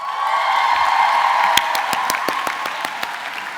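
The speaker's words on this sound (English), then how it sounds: "Some more applause for the housekeeping staff at Chelsea" A crowd applauds the housekeeping staff at a Chelsea College of Arts graduation ceremony, a continuous wash of clapping with a few louder individual claps standing out.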